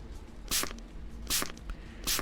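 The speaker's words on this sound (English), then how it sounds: "You just have to repeatedly push B to spray it as well." Glass cleaner sprayed onto glass in the Terminal 81 video game, three sharp hissing spray bursts in an even rhythm, each brief and close, separated by quiet gaps.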